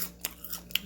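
A few short crunchy bites and chews of chicken crackling, close and dry, spaced irregularly over a quiet background.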